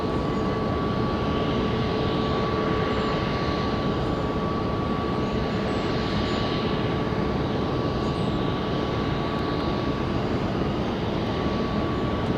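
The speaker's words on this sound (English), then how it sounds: "aircraft getting airborne right now" A jet airliner powers up and takes off from runway 19 right at Tampa, a loud, steady broadband roar that holds for the whole stretch without letting up.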